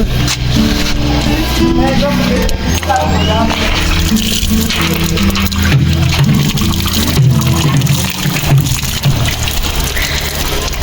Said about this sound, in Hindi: एक तोरी की सब्जी हो गई है यहाँ पर तैयार, इसको देंगे हम पानी।